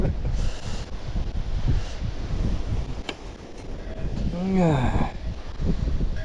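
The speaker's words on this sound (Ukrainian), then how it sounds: "удочку держати не можу, такий вітер" Strong wind buffets the microphone with a constant low rumble, gusting throughout at a fishing spot, while a person's voice rises briefly partway through.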